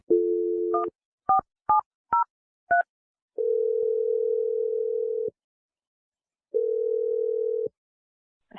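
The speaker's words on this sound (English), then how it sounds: "I'm dialing her number right now." A telephone call being placed: a steady dial tone, then a quick run of six distinct keypad beeps, followed by two long ringback tones separated by silence, all clean and close.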